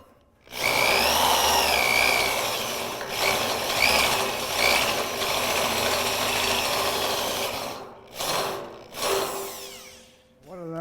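A power drill runs steadily for several seconds, boring a larger wire hole through a sailboat trailer part with a 5/16-stepped countersinking bit, loud and close, then stops and restarts in short bursts near the end.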